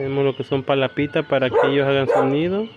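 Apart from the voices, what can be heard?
dogs barking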